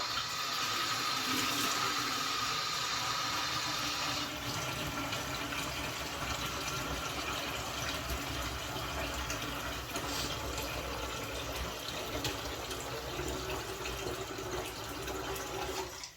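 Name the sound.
filling a deep fryer with water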